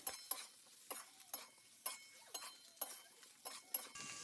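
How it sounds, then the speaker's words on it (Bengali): Ginger-garlic paste and chili powder fry in a pan while a utensil stirs it, with a steady sizzle and regular metallic scrapes and clinks of the spoon against the pan about every half second, close up and with no talking. "এর সাথে আদা রসুন বাটা দিয়ে ভালো করে নেড়ে চেড়ে ভেজে নেব"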